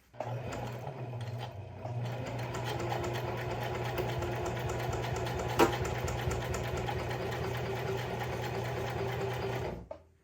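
A sewing machine runs a long continuous stitch along the side seams of a pair of jeans. It hums steadily and closely with a fast, even needle clatter for about ten seconds, with no talking.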